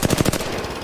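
Rapid automatic gunfire from a shooter video game, a loud close burst of about five quick shots that stops after roughly a third of a second and leaves a ringing tail.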